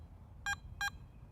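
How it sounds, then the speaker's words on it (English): Two short, bright electronic beeps in quick succession from a Garrett ATX metal detector during an iron check, over a low background hum, fairly close and distinct. "Press and hold the iron check button and wait for the double beep."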